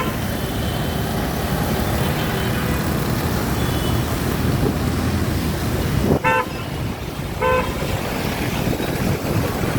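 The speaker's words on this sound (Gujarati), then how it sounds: "इतना क्यों हॉर्न मार रहा है" Amid constant roadway traffic noise, a vehicle horn honks twice in short bursts from close by, one quick toot followed by another about a second later.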